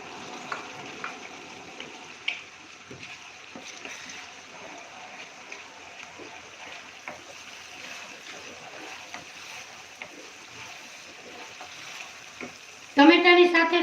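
Onions frying in a pan for pav bhaji give a steady, moderate sizzle with faint clinks from stirring. It ends in a sharper, louder burst of hissing as tomatoes hit the hot pan.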